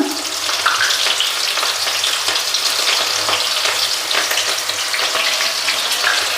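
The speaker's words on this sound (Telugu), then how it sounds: "పోపు దినుసులు ఇప్పుడు సన్నగా కట్ చేసుకున్న ఎర్రగడ్డలు అయితే వేసుకుందాం" Thinly sliced onions frying in hot oil with crackling tempering spices for a village ragi meal, heard as a loud, steady, close sizzle with light stirring throughout.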